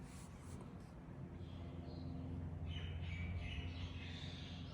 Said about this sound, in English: Can you hear my birds?